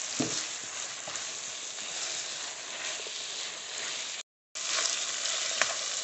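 Meat pie filling with spring onion being mixed in a pan: a continuous soft sizzle and hiss with faint stirring scrapes, broken by a brief moment of silence near the end.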